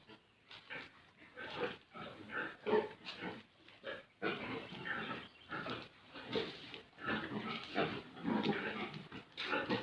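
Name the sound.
pigs grunting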